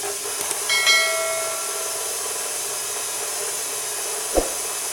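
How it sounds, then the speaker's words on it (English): A KitchenAid stand mixer with its paddle on speed 4 creams butter and sugar for cookie dough, giving a steady, fairly loud whirring hiss with a few clinks early on and a sharp knock near the end. "now we're going to cream them together using the KitchenAid"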